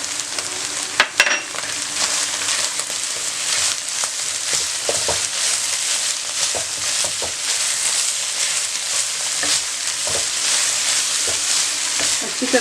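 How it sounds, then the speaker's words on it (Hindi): Minced meat fries with garlic and green chillies in a pan, a steady loud sizzle running throughout with occasional clinks and stirring scrapes close by. "अच्छी तरह से मिक्स करके फ्राई करें।"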